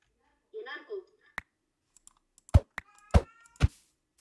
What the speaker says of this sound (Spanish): Es la gata.